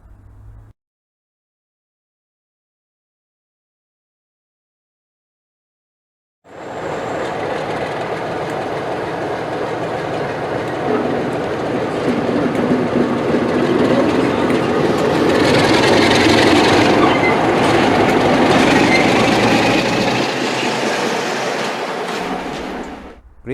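Bachmann Class 47 model diesel locomotive running on a model railway, a steady, continuous motor hum and wheel rumble that begins after a short silence and carries on evenly to the end, with no talk.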